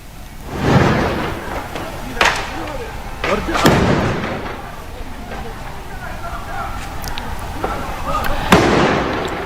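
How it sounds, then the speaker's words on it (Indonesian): Explosions following an airstrike on a house in Baghdad, several heavy booms and crackling blasts at irregular intervals over a rumbling, roaring background, with voices audible. "Ledakan susulan terdengar saat api terus membesar"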